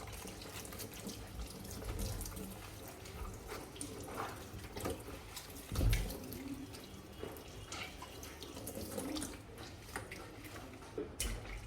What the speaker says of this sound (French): Ensuite, un lavage à grand eau.